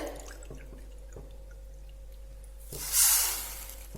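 Water poured into a bowl of sugar to make sugar syrup, heard as one short splashing pour near the end after a quiet stretch with faint drips.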